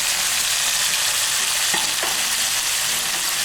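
Sautéed bitter gourd with a splash of soy sauce sizzles steadily in a frying pan, a loud close hiss broken by a couple of quick scraping stirs midway.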